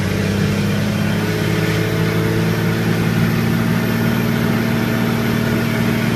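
A Dodge Cummins diesel pickup with a six-speed manual pulls uphill in fifth gear, its engine a loud, steady low drone with a constant hum throughout.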